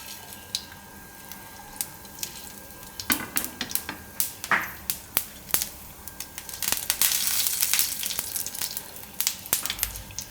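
Mustard seeds go into hot oil for Gujarati handvo: a faint background hiss breaks into scattered, sharp pops and crackles that grow denser and louder toward the end.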